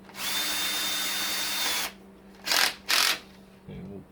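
A power drill spins the oil pump of a 302 engine counterclockwise in a steady, loud whine lasting nearly two seconds, followed by two short bursts and a faint low thump.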